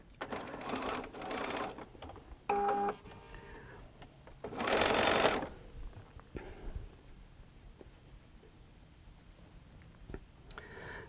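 A sewing machine stitches a wind-sock quilt in short bursts of quiet whirring, with pauses between runs and small handling noises.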